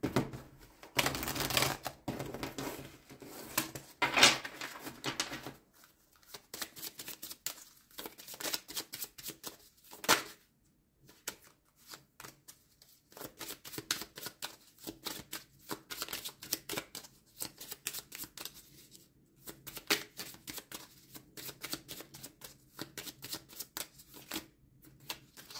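Oracle cards are shuffled and drawn close by with quick riffling and flicking bursts. Sharp card snaps come in irregular clusters with short quiet gaps between them.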